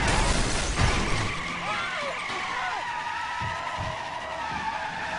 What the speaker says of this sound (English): Look at this burnout.